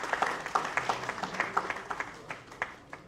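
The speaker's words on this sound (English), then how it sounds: "A round of applause for Comrade Dari Durosini." Audience applause at a union workshop and book launch, a scattered burst of hand claps with distinct individual claps, moderately loud and steady for a few seconds, then thinning out.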